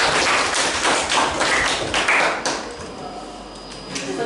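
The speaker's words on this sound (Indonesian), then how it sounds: "Kita beri aplaus buat Fajrin" Applause for a student presenter in a classroom, a dense patter of many hands clapping fairly loud and steady for a few seconds before thinning slightly.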